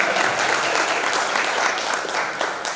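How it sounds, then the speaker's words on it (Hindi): Audience clapping at a Hindi kavi sammelan poetry recital in Ujjain, a sustained wash of many hands applauding loudly throughout, with a few sharper claps standing out near the end. "वाह, ताली बजाइए।"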